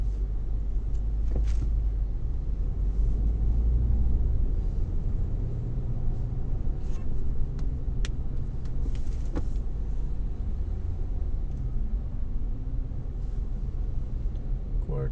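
Late-night road traffic at about a quarter to two in the morning, a steady low engine rumble from passing vehicles, with a few brief louder clicks and knocks over the continuous drone and no talk.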